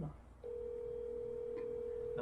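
A phone call's ringback tone sounds as one steady, continuous tone that starts after a short pause and holds to the end, moderately loud over a faint background hum.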